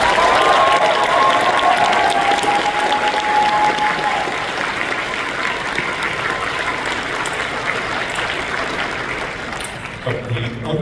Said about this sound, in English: So I just want to give a round of applause for our wonderful staff volunteers